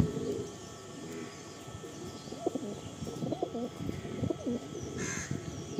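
Andhra pigeons in a loft coo in soft, repeated rolling calls, close and moderately quiet over a low background hum.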